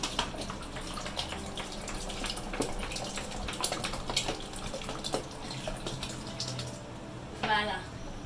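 Water is poured into a pot holding okra, giving a continuous splashing, gurgling rush that swells briefly near the end, with a voice talking over it.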